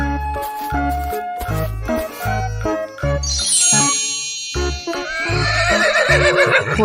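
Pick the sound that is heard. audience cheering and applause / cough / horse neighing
horse neighing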